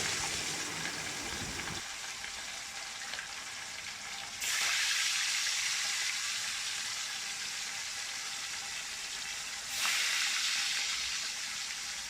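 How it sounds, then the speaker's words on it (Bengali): Hilsa fish pieces fry in hot oil with a constant hiss. The sizzle jumps louder in two sudden surges partway through, and no one speaks. "আমি অল্প অল্প করেই ভাজছি, 3 পিস ভেজেছি, আরও মাছগুলো আমি ভাজবো, এক এক করে ভেজে নিচ্ছি।"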